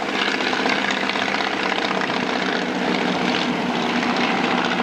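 A Tiger Moth biplane drones steadily overhead at Old Rhinebeck Aerodrome, its engine note loud and continuous with a slight rhythmic pulsing throughout.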